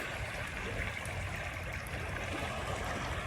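River water on the Kickapoo River flows in a steady, soft rushing wash around a paddled kayak, faint and even with no distinct strokes standing out.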